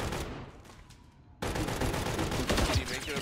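Automatic gunfire in Call of Duty Modern Warfare III, rapid bursts of shots that briefly drop away, then resume loud and dense for the rest of the moment.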